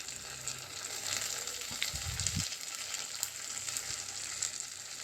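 Finely chopped onion and curry leaves frying in coconut oil for Kerala-style kadala curry, a steady close sizzle with a brief low stir or clatter in the middle and no talk.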